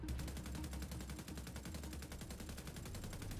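Rapid automatic rifle fire from The Division 2 in PvP play, a dense continuous burst of evenly spaced shots running the whole stretch, loud and close.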